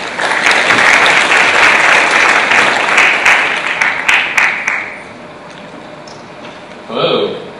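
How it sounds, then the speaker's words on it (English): An audience applauding at a tech conference talk, dense sustained clapping that fills the room for several seconds, then tapers off into quiet with a short burst of noise near the end. "Let's give him a round of applause."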